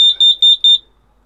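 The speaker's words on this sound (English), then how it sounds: "That's the noise it would have made if there had been an excess of carbon monoxide." A carbon monoxide alarm sounds four loud, sharp, high-pitched beeps in quick succession, close by, then falls silent, with no one talking.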